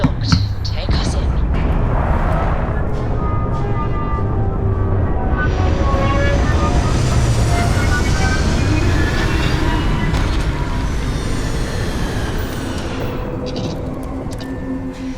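A spaceship setting down in Starfield, a deep rumbling roar with rising and falling whining tones that builds, holds and then tapers, with a voice speaking over it.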